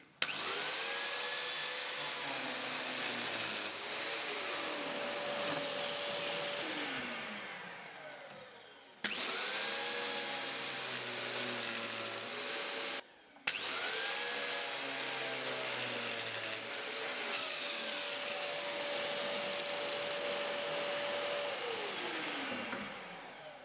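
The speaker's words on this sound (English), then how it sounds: "And then it was time to get busy with the biscuit joiner." A biscuit joiner cuts slots in walnut boards in three long bursts of high motor whine, each spinning up and winding down, with brief gaps between cuts and no talking.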